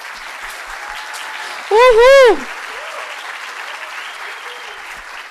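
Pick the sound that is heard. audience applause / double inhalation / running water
audience applause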